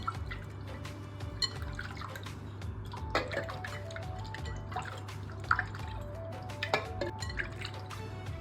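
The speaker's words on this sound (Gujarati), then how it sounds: "તો આપણે છે ને આ પાણીથી ધોઈ નાખશું." Water rinses a vessel scrubbed with homemade pitambari cleaner made from raw mango peel, giving intermittent splashes and drips over a steady low hum, with no talking.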